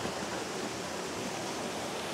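Hidden river in Barangay Baliwag, Magallanes, flowing as a steady, soft rush of water, even and continuous throughout with no voices.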